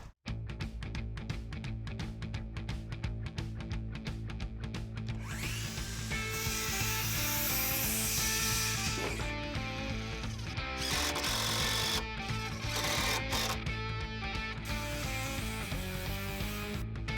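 Wooden deck boards are cut to length on a container workshop build, a steady loud buzzing cut running continuously with brief pauses and scraping, no talking.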